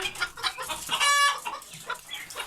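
Chickens, including older mixed-breed birds, cluck and murmur continuously close by, with one drawn-out higher call rising briefly above the flock's chatter.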